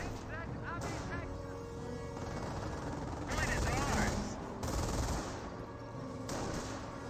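Machine gun fire from an infantry half-track in Company of Heroes, heard as rapid bursts of gunfire amid battle noise, with someone commentating over it.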